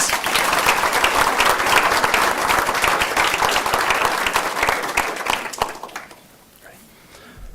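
An audience at a county school board meeting gives a round of applause for beginning teachers: sustained, dense clapping that holds for about six seconds, then thins and fades to a few scattered claps.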